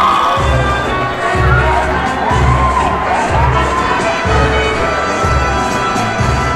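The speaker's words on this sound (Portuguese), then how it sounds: "Recebam com amor, carinho, uma enorme salva de palmas e muita bagunça," Guests at a debutante ceremony for Princess Gabi in a mansion cheer, shout and clap loudly, a dense, continuous crowd roar with children's shouts and rhythmic thumping music underneath.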